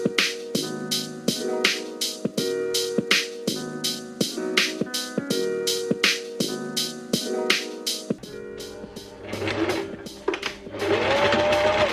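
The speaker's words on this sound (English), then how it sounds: "sew it with zigzag stitch to secure" A sewing machine sews a zigzag stitch along a fabric scrunchie, its needle thumping in a quick, even rhythm for several seconds before handling noise and rustling take over.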